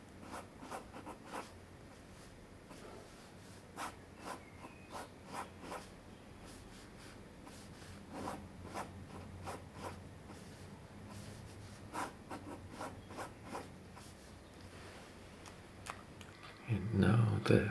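Fountain pen with a wing nib scratching across paper, faint close strokes in irregular short bursts repeating through the stretch, with a louder rustle at the end.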